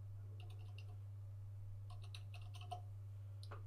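Soft clicks of a computer keyboard as an MLS number is typed, a few short clusters of keystrokes over a low steady hum in a quiet room.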